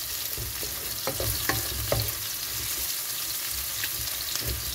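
Garlic paste fries with frozen fish in a little oil, a soft continuous sizzle with a few sharper crackles and light clatter, heard close without talk.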